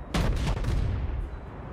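Warship guns fire in World of Warships: a rapid cluster of booming shots in the first second, heavy and close, with rolling low rumble trailing off afterward.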